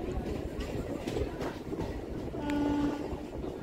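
Hasnabad local train running, a continuous rumbling rattle of rolling carriages with a brief horn-like tone near the end, heard from on board.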